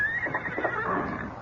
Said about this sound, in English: Someone left a horse out there.